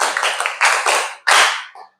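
A group of children claps in counted bursts, several rapid rounds of clapping with short gaps between, close and loud.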